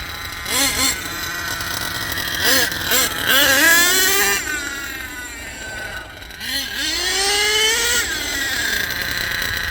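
An HPI Savage RC car running in first gear revs up in several loud, rising whines, with brief drops between bursts as the engine climbs and falls, fairly close by.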